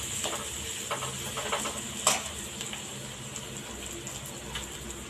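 Onions frying in a pan for a Tamil crab curry, a soft steady sizzle and hiss with occasional stirring scrapes and one sharper clink, close and moderately quiet.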